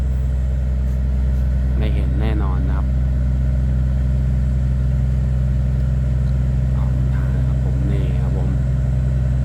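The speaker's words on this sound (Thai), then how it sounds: "นี่เสียงของเครื่องยนต์นะฮะ" A tugboat engine drones loud and steady with a deep, constant hum throughout while the tug tows a sand barge. Someone talks briefly over it.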